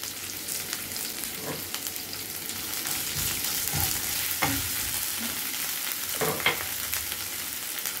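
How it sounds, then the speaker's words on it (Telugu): Onions frying in oil with cumin, mustard seeds, curry leaves and ginger garlic paste, a dense steady sizzle with scattered stirring scrapes and clinks, close and without talk. "ఆనియన్స్ కొద్దిగా ఫ్రై అవ్వాలి."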